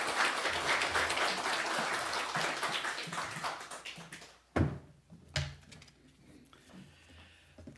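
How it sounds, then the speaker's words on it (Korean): Applause from a church congregation at a Sunday worship service, welcoming a pastor to the front. A dense, steady roomful of clapping lasts about four seconds, then breaks off into a couple of sharp knocks and thumps over quiet room tone. "안남기 목사님 나오실 때 박수로 환영하겠습니다."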